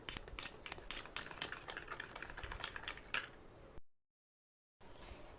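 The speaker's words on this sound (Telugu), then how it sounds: "దీన్ని వాటర్లో వేసి ముందైతే కలిపేసుకుంటాను" A spoon stirs ragi flour into water in a bowl, making quick, rhythmic scraping clicks for about three seconds before it stops and falls silent.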